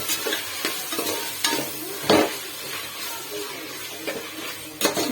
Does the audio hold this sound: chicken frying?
yes